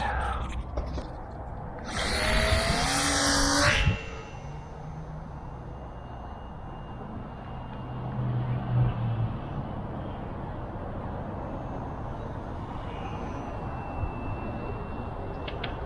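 Small electric motor of an Eachine Mini Mustang P51D RC park flyer revving in a loud high whine for about two seconds at launch, then fading into a faint distant buzz over outdoor wind.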